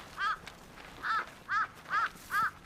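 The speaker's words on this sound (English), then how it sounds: "Is that the sound of a crow?" A crow in a Hong Kong birding spot at Tai Tong gives five harsh, rasping caws, each short and evenly spaced, fairly close and clear over quiet background with no speech.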